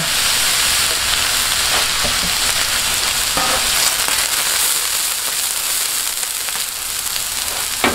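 Oil sizzles loudly and steadily on a Blackstone flat-top griddle while cheesesteaks are being made, with faint scraping now and then and no one talking.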